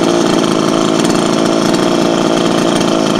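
A brand-new Wemars chainsaw engine runs steadily at a loud, close idle, a continuous buzzing drone with no breaks and no talk.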